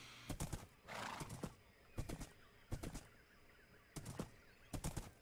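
Minecraft horses whinny and hooves clip-clop in short, repeated bursts, fairly close, with quiet gaps between each burst and no talking.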